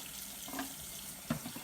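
Tap water steadily filling a black-and-white film developing tank to rinse out fixer, a continuous close, soft rushing stream with a couple of faint splashes.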